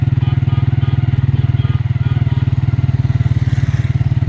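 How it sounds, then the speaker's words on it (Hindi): A motorcycle engine chugs steadily and loudly up close while riding through thick smog in Lahore, with a fast regular pulsing throb throughout. "बाइक में निकला हूँ बाहर।"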